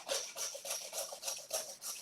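A hand saw rasps back and forth in a steady rhythm, about seven close, scraping strokes through dense beef during a butcher's forequarter breakdown.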